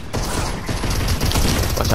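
Rapid gunfire in a shooter video game, a dense, loud rattle of continuous shots mixed with mechanical clicks, with a voice speaking over part of it.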